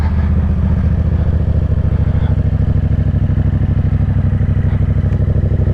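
A Yamaha FZ-07 motorcycle engine drones steadily while riding, a loud, close, continuous rumbling hum at a constant pace with no speech.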